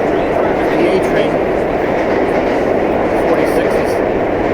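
An NYC Subway A train of vintage cars over 40 years old, a loud, steady rumbling roar of the train running close by, unbroken for the whole stretch, with voices faintly mixed in.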